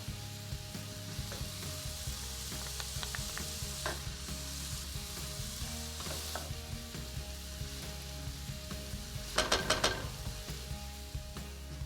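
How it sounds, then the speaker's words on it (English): Finely diced green chili fries in a pan, a constant close sizzle with repeated stirring scrapes and a short burst of louder clatter toward the end. "Let's add in 1 finely diced green chili."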